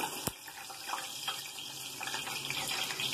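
Plantain slices for costeño patacones being dropped into a bowl of water, a soft continuous splashing and trickling close by with a few small plops, no voices.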